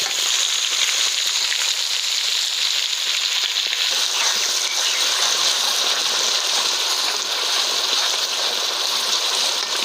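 Ground onion paste hitting hot oil for chicken dum biryani gives a loud, steady hiss and sizzle that runs unbroken close up, with no voices.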